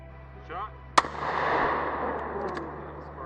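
A 5.7mm SS190 round fired at a titanium K6-3 helmet gives one sharp, loud crack, followed by a long trailing roar and rumble that slowly fades away.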